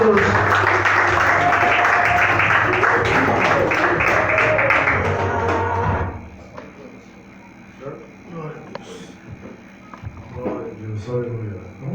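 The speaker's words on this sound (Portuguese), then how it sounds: "As palmas que louvam o nome de Jesus." Church congregation clapping in praise of Jesus during a service, a loud dense wash of applause for about six seconds that then stops, leaving quieter room sound and scattered voices.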